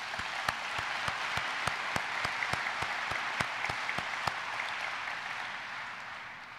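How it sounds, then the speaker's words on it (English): Audience claps at a State of the Port 2015 address, a fairly quiet, even patter punctuated by sharp individual claps before it tapers off toward the end. "I want to take a moment to thank them for their service and give them a big round of applause."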